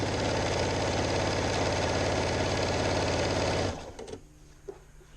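A sewing machine runs fast and continuously while stitching fabric for a pair of pants, its close mechanical whirr and rapid needle chatter steady for several seconds before stopping, followed by faint handling clicks.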